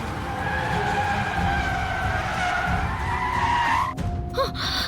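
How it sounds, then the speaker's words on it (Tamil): A car with a punctured tire skids along the road in a loud, sustained tire screech over engine noise, cutting off abruptly near the end. "அக்கா வண்டி டயர் பஞ்சர் ஆயிடுச்சுன்னு நினைக்கிறேன்க்கா."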